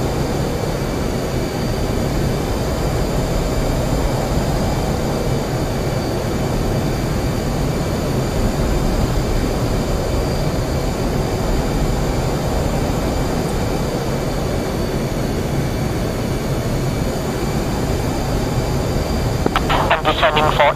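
Jet aircraft engine in the DCS flight simulator game, a steady, loud roaring drone that holds unbroken and close for the whole stretch with no clear gaps.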